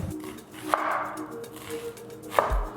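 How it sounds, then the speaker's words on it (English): A knife slicing down vertically through a white onion on a cutting board: two crisp chopping thunks about a second and a half apart, close and fairly quiet, with soft kitchen room noise between. "So I got one white onion, we're gonna slice down vertically so we can get those rings."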